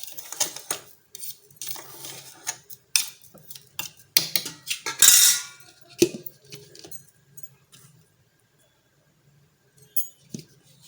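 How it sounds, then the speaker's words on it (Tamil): A ladle stirring sesame seeds as they roast in a pan, close irregular scraping and clinking in quick bursts, louder in the middle, then tapering to a few sparse taps. "நல்லா ஒரு கரண்டியை வச்சு அடியிலேருந்து எல்லாம் கிண்டி விட்டுட்டு திரும்ப ஒருக்க திரிச்சிடுவோம்"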